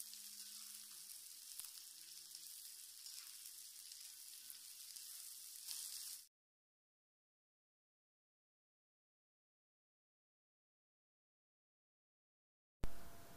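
Green beans stir-fried into a Kerala-style upperi for a Malappuram lunch sizzle in a hot pan, a steady close hiss for about six seconds that cuts off abruptly, with a short burst of sizzling returning at the very end.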